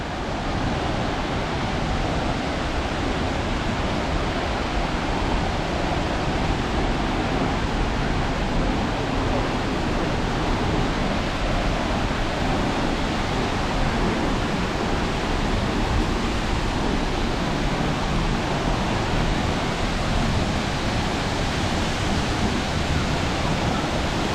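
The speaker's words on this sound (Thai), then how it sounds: "ถึงชั้นน้ำตกแล้วนะครับผม" Huai Luang waterfall in Phu Jong-Na Yoi National Park, Na Chaluai, Ubon Ratchathani, pours in a steady, dense roar of rushing water that stays loud and unbroken throughout.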